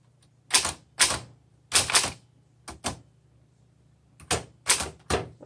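Vintage 1927 Underwood Standard 4 Bank manual typewriter being typed on: sharp mechanical key strikes in quick pairs and short bursts with pauses, close and clear against a faint steady hum, no talking.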